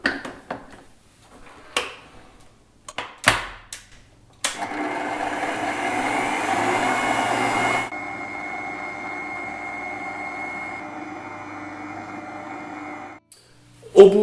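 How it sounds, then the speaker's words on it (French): A stand mixer with its kneading arm works puff pastry dough after a few scattered knocks and clatters; the motor whirs loudly and steadily for several seconds, drops to a lower, quieter hum, then stops. "on utilise le bras du pétrin"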